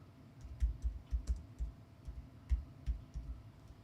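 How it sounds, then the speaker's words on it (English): Someone types a search keyword on a computer keyboard: quick, soft, irregular key clicks close by in a quiet room. "you type in the keyword"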